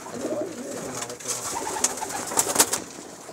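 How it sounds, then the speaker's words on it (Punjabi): Racing pigeons in a rooftop loft cooing softly, with low murmuring calls and a few sharp wing or claw scuffs close by, under faint background noise. "ਸਾਰੇ ਬਾਜ਼ੀ ਵਾਲੇ ਕਬੂਤਰ ਹਨ"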